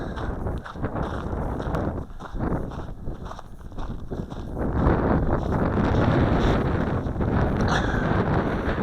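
Gusty wind buffets the microphone during an Eachine Falcon 180 FPV racing drone flight, with loud, rough rumbling that swells and dips, growing stronger and steadier in the second half.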